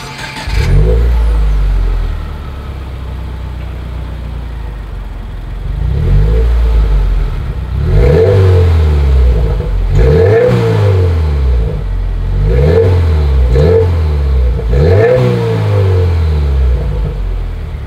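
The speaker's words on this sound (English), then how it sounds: "as always, here is that exhaust clip" A 2020 Subaru WRX with a dual exhaust and quad stainless tips revs up repeatedly, loud and close, its rising and falling sweeps arriving in bursts over a steady idle burble.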